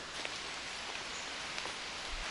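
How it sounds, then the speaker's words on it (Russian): Light drizzle beginning to fall outdoors, a soft, even patter of fine drops with faint rustling, steady and uninterrupted with no voices. "если бы дождик, который начал моросить, не усиливался"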